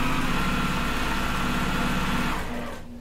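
A sewing machine stitches a quilt block with a continuous, close, loud motor whir and needle chatter that slows and fades as it stops near the end.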